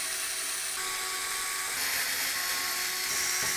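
An electric screwdriver backs out the hard drive cage bracket screws inside a be quiet! Dark Base Pro 901 PC case, a continuous close high-pitched whir that shifts pitch slightly as it runs.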